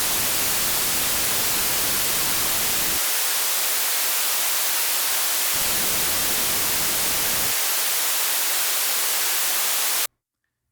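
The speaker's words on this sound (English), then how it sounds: "The complement of the high cut is the low cut." Continuous hiss of noise run through a high-pass (low-cut) filter alternates between full-bodied hiss and thin, bright hiss with the low end stripped away, ending in abrupt silence.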